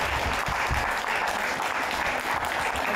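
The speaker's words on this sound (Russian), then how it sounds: "Им сегодня аплодировали стоя" Standing ovation at a regional ceremony where volunteers are honored: dense, sustained applause from a large crowd, steady and loud through the whole stretch with no voices breaking through.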